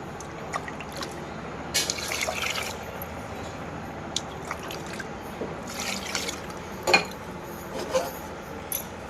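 Quiet splashes and drips of water in a vessel, with intermittent sloshing and trickling as rice is washed by hand.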